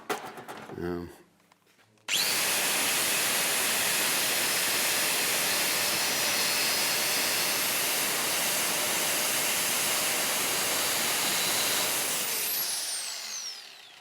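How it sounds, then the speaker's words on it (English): An angle grinder cuts steadily through the braided outer layer of a hose for a Barra-powered Bedford van, a loud continuous whining roar that runs for about ten seconds after a short burst of talk and then winds down. "Just let the grinder do its work and it won't upset this outside braid."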